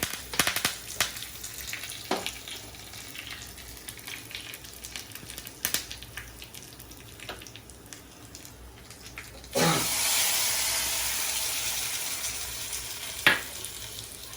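Dried red chillies and curry leaves fry in hot oil, a quiet crackle broken by a few sharp pops, then a sudden louder burst of sizzling that continues steadily.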